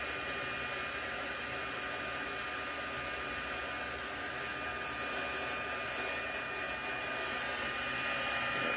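Heat tool blowing steadily on a higher setting while melting black embossing powder on vellum, a continuous close airy whoosh with a faint high whine, loud and unbroken throughout.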